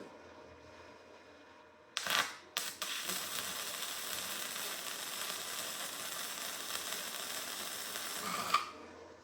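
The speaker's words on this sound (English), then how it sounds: "I'm gonna run a bead right down here" A budget welder runs a bead on metal: after a sharp start, a steady, loud crackling sizzle holds for about six seconds and then cuts off with a final pop.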